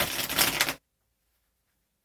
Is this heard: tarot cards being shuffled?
yes